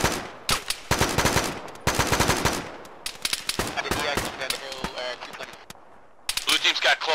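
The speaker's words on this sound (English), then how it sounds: "Who is shooting?" Gunfire in a military video game: loud bursts of automatic fire and single shots, some close and sharp, others more distant, crackling irregularly throughout with a voice heard speaking among them.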